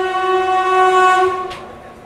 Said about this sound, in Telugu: సో మనం చిరాల నుంచి డిపార్ట్ అయ్యాము.